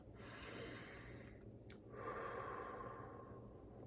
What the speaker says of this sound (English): So you start with a deep breath.